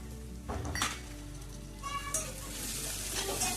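Fresh peas tossed into a hot pan with chopped capsicum and green chilli for veg pulao, giving a steady close sizzle with a brief burst as they land and light stirring clinks.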